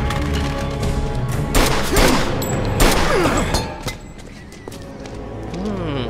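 Gunfire crackles through a shootout in Mafia 2, several loud shots and bursts layered over dense game noise and music, with a few sharp peaks standing out in the first half before the action thins.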